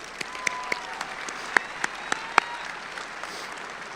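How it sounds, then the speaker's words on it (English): Scattered applause from a modest audience at a high school graduation ceremony, individual sharp claps standing out over a steady patter of clapping. "Now let's give them a round of applause."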